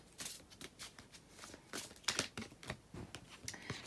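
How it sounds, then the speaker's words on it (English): Tarot cards being shuffled by hand, a quick run of soft papery riffles and flicks, close and quiet. "we are live shuffling with these as well"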